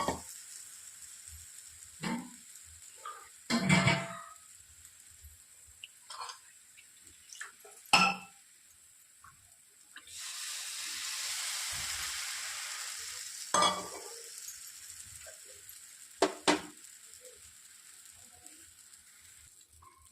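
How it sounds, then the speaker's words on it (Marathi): Besan gram flour batter poured into a pan of sautéed onions and asafoetida for Khandeshi-style pithla, with scattered clinks and scrapes of stirring and a steady sizzle rising midway, no voices. "आता आपण त्यामध्ये हा बेसन पिठाचा घोळ टाकूया."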